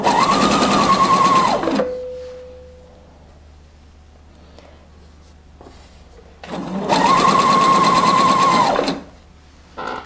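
Sewing machine running a straight stitch on stretched neckline binding for a dress: two loud, even bursts of rapid stitching separated by a quiet pause with faint handling noises.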